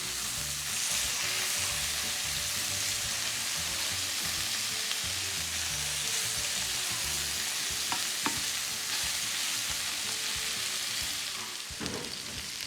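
A New York strip steak sears in a hot pan with a loud, steady sizzle and crackle, continuous from start to finish with a few faint clinks near the end and no talking.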